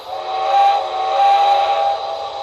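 Sound from an Intermountain AC-12 cab forward model locomotive's decoder: a steady steam hiss with a tonal, whistle-like drone that swells twice, close and alone, with no distinct chuff beats audible.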